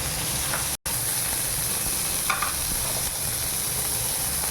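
Lentils frying in a pan with shallots and green chillies for a pirandai chutney, giving a steady close sizzle with occasional stirring scrapes, heard alone without any talk.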